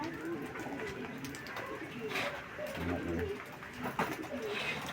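Pigeons of a Taiwan breed coo softly in a room, low repeated calls over steady background noise, with occasional brief chirps and some talk nearby.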